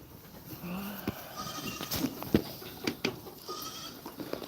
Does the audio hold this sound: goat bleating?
yes